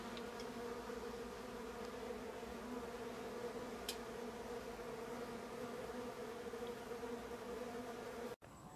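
Honeybees buzzing in a dense, steady drone while a hive is split into a new colony outdoors, a continuous close hum with a brief click near the end and no talking.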